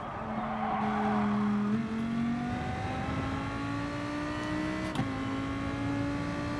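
A Lamborghini Huracan GT3 race car engine in GT Sport at Monza revs steadily upward through the gears, a loud whining tone climbing with a short shift drop near the end, with tire noise underneath.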